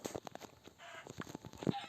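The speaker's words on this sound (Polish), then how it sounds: "Kurczaki! Patrzę! Kurczaki się zrespiły," Chickens in Minecraft cluck in short, uneven bursts, fairly close, scattered across a quiet background.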